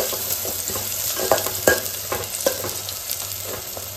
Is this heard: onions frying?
yes